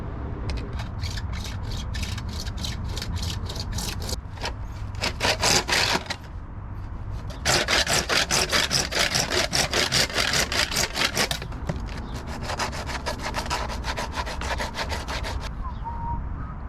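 A hand saw cuts through a plastic drain pipe in a garden build, making loud, close, rapid back-and-forth rasping strokes in several bursts with brief pauses between them.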